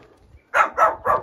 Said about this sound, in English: we got little doggies, little puppies